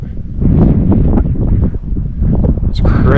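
Strong wind roars and buffets the microphone on an exposed mountain summit along a hiking trail, a loud continuous rumble with gusts and brief voice sounds mixed in.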